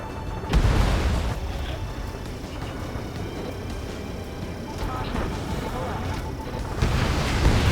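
A destroyed target explodes in the jet combat game Ace Combat 7, a loud boom that rolls over a steady roar of aircraft engines, with another burst near the end.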